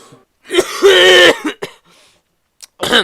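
A burst of harsh, heavy coughing up close, a long rattling hack followed by a few shorter coughs and throat-clearing sounds with brief pauses.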